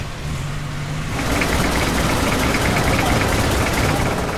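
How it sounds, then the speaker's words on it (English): A long-tail speedboat on a Thai river, its air- and water-cooled engine mounted directly to the prop shaft, revving up from a low idle into a loud, steady roar. "These craft are the workhorses of the rivers, with their air and water-cooled engines mounted directly to the prop shaft and propeller."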